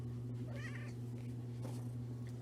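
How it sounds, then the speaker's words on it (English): Close indoors, a cat gives two short, soft meows over a steady low electrical hum. "Oh, and the cat got in the way."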